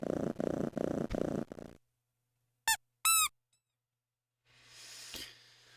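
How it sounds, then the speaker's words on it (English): A digital cat in the 1996 computer game Catz purrs in a rapid, pulsing rhythm, then lets out a couple of bright squeaky chirps before a softer, breathy purr returns. "That's pretty good for a digital purring."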